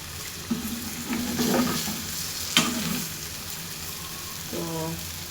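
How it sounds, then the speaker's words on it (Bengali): Dried fish is stir-fried bhuna style in a pan, a steady sizzle broken by several stirring scrapes and clinks of the utensil against the pan, heard up close. "এটা আমি শুটকি বোনা করতেছি।"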